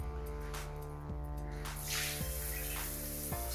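Water runs from a bath hand shower (Muslim shower) at home, a steady wash of flow with a few soft clicks or knocks as it plays, fairly quiet and with no voices.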